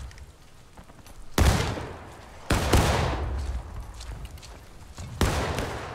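Three loud, sharp gunshots ring out in the video game War of Rights, widely spaced, each echoing and decaying slowly over a low background rumble.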